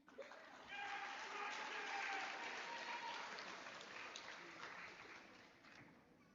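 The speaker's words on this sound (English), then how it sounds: "I will let you applaud in between" Applause swells from an audience at an 8th grade recognition ceremony during the reading of graduates' names, a fairly faint but sustained round of clapping that rises, holds, then tapers off, with some murmuring mixed in.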